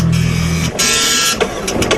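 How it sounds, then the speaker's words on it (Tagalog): An L3 printer running indoors in an office, a steady mechanical whir with a low hum that cuts off partway, then a brighter higher-pitched feed sound with small clicks, fairly close and loud. "printer na gumagana"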